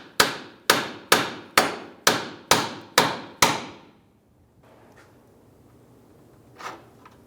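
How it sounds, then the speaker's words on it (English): A hammer strikes a bolt eight times in an even, steady rhythm, tapping it back through a 2003–2011 Honda Element rear wheel hub. Each metallic blow is loud and close with a short ring, followed by quiet rustling. "try and tap back our bolt that runs right through here"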